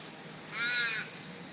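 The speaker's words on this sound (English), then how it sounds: "What are you after, Mr. Crow?" Crow cawing while feeding on a dead bird on a terrace, a single harsh, drawn-out caw close by over quiet outdoor background, no talking.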